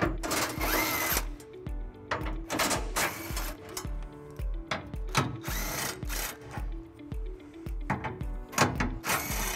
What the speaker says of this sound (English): we'll remove by taking out these four bolts, and we'll be using a 13 millimeter socket